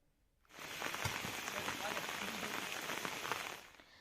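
Steady rain pours on a village area with no road, a dense continuous hiss that starts abruptly and holds at an even level before easing off near the end.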